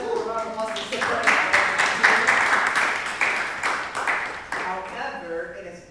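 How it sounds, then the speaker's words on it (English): Audience applause at a live stand-up comedy show: a steady wash of clapping that swells for several seconds and then tapers, with a voice heard briefly before and after it. "Give yourself a round of applause for supporting"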